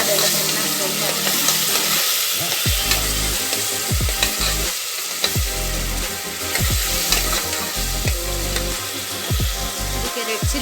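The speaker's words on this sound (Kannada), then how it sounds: "ಇಲ್ಲಿ ಹಸಿ ವಾಸನೆ ಹೋಗೋಕೆ ಎಣ್ಣೆನಲ್ಲೆಲ್ಲ ಚೆನ್ನಾಗಿ ಫ್ರೈ ಮಾಡಿ." Ginger, garlic and herb paste fries loudly in hot oil for a chicken gravy, a steady crackling sizzle broken by repeated scraping stirs of a spoon against the pan, with no voices.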